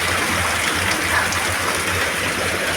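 Floodwater rushing steadily through a flooded neighborhood, a continuous broadband wash of churning water with no pauses, fairly loud and close.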